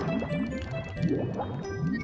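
A manta ray swims underwater in Super Mario 64, giving off a steady run of soft, bubbly, squishing pulses every fraction of a second, close and moderately loud with no talking.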